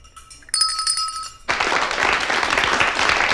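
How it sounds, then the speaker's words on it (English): Applause from a studio audience on an afternoon café talk show rises suddenly after a short bright chime, then holds as a dense, steady wash of clapping. "I'm waiting for the applause."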